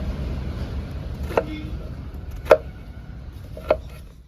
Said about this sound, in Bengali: লাউটা এইভাবে কাটবে, বেশি ছোট করলে হবে না, বড় বড় রাখলে হবে